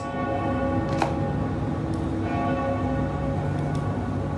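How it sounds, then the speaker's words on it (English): A bell tolls in a stage reading of Macbeth, giving a few resonant struck tones with sustained ringing overtones, spaced about a second apart and moderately loud. "The bell invites me."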